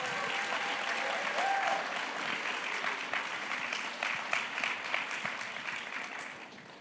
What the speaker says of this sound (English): can we please give another round of applause to not just the actors